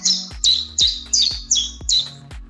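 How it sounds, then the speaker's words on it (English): An AI-generated finch call plays as six loud, evenly spaced squawking chirps, each a sharp bright burst repeating roughly twice per second with nothing else audible. "Here's a clip of a prompt they generated to communicate with finches."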